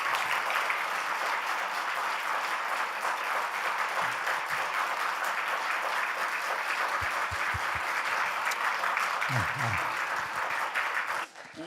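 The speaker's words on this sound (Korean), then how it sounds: "우리 강사 목사님 박수로 환영하도록 하겠습니다." A church congregation at an autumn revival service applauds to welcome the guest pastor, a sustained, fairly soft wash of many hands that stays even for several seconds, with a few low thumps near the end as it tapers off.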